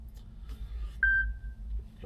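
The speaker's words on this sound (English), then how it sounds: "Oh, my phone's ringing." A mobile phone in a semi-truck cab gives a single clear electronic ring tone, brief and sustained, over a low, steady rumble.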